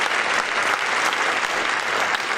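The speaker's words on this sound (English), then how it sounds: "Let's give Kenya McDuffie a big round of applause." A large audience at the mayor's 2018 State of the District address applauds, a dense, continuous wash of many hands clapping at full strength with no break.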